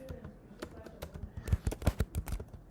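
Keys tapped on a computer keyboard while writing code, a quick irregular run of close, crisp clicks and clacks with no talking over them.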